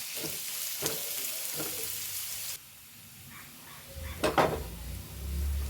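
Onions sizzle and fry in a hot pan as they are sautéed, with a few scraping stirs and clinks of a utensil; the sizzling drops lower partway through.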